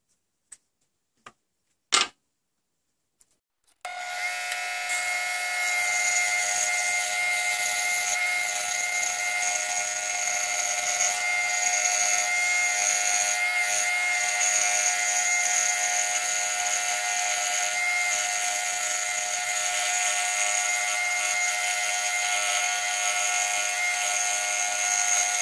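After a few sharp clicks, a scroll saw fitted with a spiral blade starts up and cuts plywood. A loud, steady whine with a hissing edge continues unbroken for about twenty seconds, with no voices.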